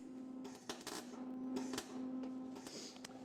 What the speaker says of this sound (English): let me just give that a little bit of a weld